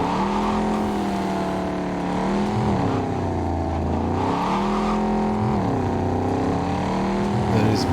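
A car engine drones loudly and continuously in a video game, its pitch sliding up and down through repeated revs and gear shifts.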